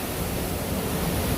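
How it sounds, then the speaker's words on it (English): Waterfall at Magic Kingdom rushing as a continuous broad roar of falling water, steady and close with no breaks and no voices. "Am I the only one that finds waterfalls simply relaxing?"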